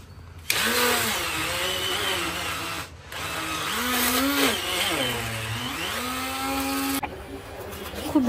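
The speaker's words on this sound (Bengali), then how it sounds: "বেসিক্যালি আমি হ্যান্ড ব্লেন্ডার দিয়ে ব্লেন্ড করব।" A hand blender whirs through patishapta pancake batter of milk and flour, starting abruptly, dipping briefly, then rising and falling in pitch for several seconds before cutting off, close and loud.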